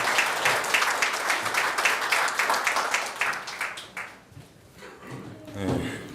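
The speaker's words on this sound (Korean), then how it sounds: "여러분 뜨거운 박수로 환영해 주시기 바랍니다." An audience at a party rally in Wonju applauds to welcome a candidate, a dense wash of clapping that fades after about four seconds, followed by a faint voice and low murmuring.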